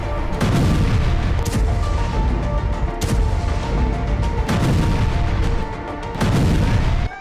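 Heavy explosions from bombing in Gaza, a series of loud booms and thuds every second or two over a continuous rumbling roar.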